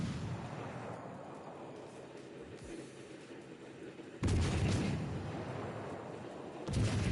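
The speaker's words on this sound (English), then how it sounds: "And then start firing at that battleship. You've got 4 guns. Fire all 4 of them." Battleship main guns firing in a naval video game: two heavy booming blasts, each a sudden loud broadband burst with a rumbling tail, the second following a few seconds after the first, with low rumble between.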